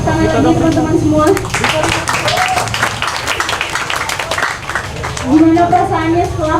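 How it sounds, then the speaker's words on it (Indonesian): Audience applause at a discussion and film screening event, a steady crowd of clapping sustained throughout under a speaking voice. "tepuk tangan lagi teman-teman semua"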